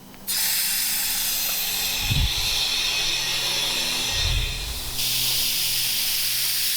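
A steady, loud hiss of pressurized air and water spray runs nearly the whole time as a sprinkler zone is blown out for winterizing, with two brief low rumbling bursts partway through and a brighter hiss near the end.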